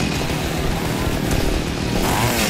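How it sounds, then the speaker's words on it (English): Two chainsaws roar against each other in a duel in the 2010 video game Splatterhouse, a loud, dense, continuous buzzing grind that fills the whole stretch with no pause. "the sounds of this chainsaw duel are going to completely drown out Lamb of God"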